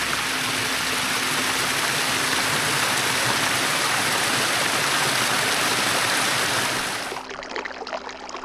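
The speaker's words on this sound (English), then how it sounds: "The water is flowing beautifully." A mountain spring flows strongly in a loud, continuous rush of water close by, steady for about seven seconds before it suddenly drops to a quieter, thinner trickle.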